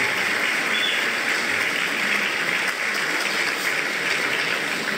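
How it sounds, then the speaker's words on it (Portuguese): An audience at a ceremony with President Lula claps in sustained, dense applause that stays loud and even throughout, with no voices heard over it. "uma salva de palmas ao Brasil e ao presidente Luiz Inácio Lula da Silva."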